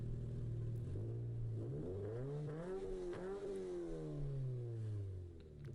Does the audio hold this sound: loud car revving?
yes